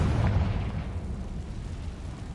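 Confringo blasting spell going off in Hogwarts Legacy, a deep booming burst that hits loud at once and then rolls off into a low rumbling tail.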